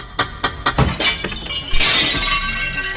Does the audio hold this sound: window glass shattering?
yes